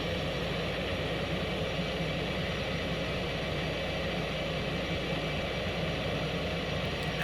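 Jet engine noise from an F-18 in the X-Plane 11 flight simulator, throttling up for a night pattern turn, heard as a steady, loud broadband roar that holds constant throughout with no voices.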